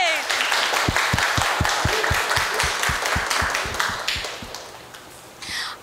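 An audience at Diamond Harbour Women's University breaks into applause, sustained rapid clapping close by that thins out and fades toward the end.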